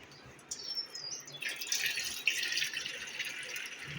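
About half a cup of water is poured into an ivy gourd and potato curry, making a soft, faint, continuous splashing pour.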